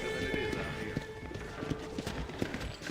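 Steady clip-clop of horse hooves in a quick rhythm in the video game Red Dead Redemption, close by, over a continuous background hum with a voice speaking faintly.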